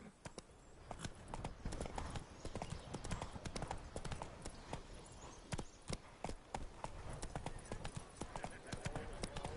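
Roach the horse trotting in The Witcher 3, with steady, fairly close hoof clip-clops in a rapid rhythm over a dense bed of game ambience and faint voices.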